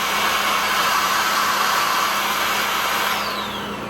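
A Toppin cordless stick vacuum cleaner runs close by with a steady, loud motor whine and airflow hiss, holding constant before easing down slightly at the end.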